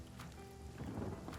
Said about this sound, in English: Let's go ahead and make it rain on his boat.